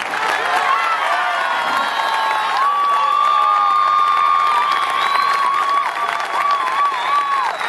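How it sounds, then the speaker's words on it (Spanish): A crowd at an award event cheers for the Gendarmería Nacional band in Jesús María, with sustained applause, shouts and shrill whistles blending into a loud, continuous roar for the whole stretch. "Vamos a elegir con el aplauso de ustedes a la banda"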